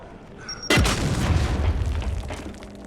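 A fragmentation grenade goes off in Gears 5 as one loud, sudden boom, followed by a rumbling low roar that lingers and slowly fades.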